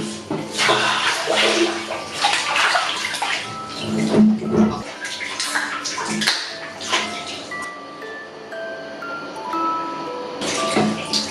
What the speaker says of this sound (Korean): 이렇게 들어갈 때 물이 넘치는 이게 너무 좋더라고요